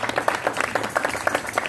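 An audience claps in a lively burst, the hand claps falling in a quick, fairly steady rhythm that sounds like a crowd clapping along together.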